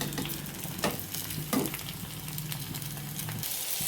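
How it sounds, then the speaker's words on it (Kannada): Garlic, green chillies and tomato fry in a pan for a spinach chutney, a soft steady sizzle broken by a few scraping stirs, close and quiet with no voices. "ಸ್ವಲ್ಪ ಫ್ರೈ ಮಾಡ್ಕೊಳ್ಳೋಣ"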